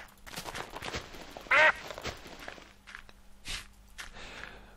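A single loud duck quack stands out in Minecraft, with soft footsteps and small game clicks around it at a quiet level.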